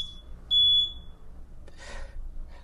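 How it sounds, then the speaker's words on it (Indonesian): A glass-lift alarm clock sounds a short, loud, high electronic beep tone, followed by quieter clinks and rustling as it is handled nearby. "alarm ini nggak akan pernah mati kecuali kalian angkat gelasnya"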